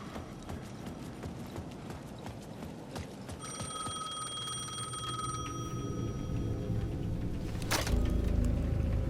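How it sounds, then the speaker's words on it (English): A payphone at the edge of a plaza in Alan Wake 2 rings with a bright, bell-like tone for about two seconds. Rhythmic clacking ticks sound beneath it, and a low rumble slowly swells afterward. "The payphone at the edge of the plaza was ringing again."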